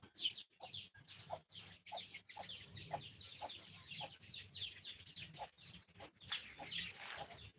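Gamecocks kept in an enclosure in a garden cluck repeatedly in short, irregular bursts, faint and somewhat distant, with several birds calling over one another.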